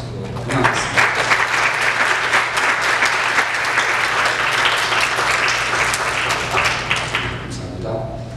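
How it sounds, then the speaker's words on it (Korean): A church congregation claps during a Sunday service to welcome visitors, a full, steady round of applause from a roomful of people that lasts several seconds, rises quickly and then tapers off near the end. "잠깐 일어나시면 저희가 박수로 환영하겠습니다."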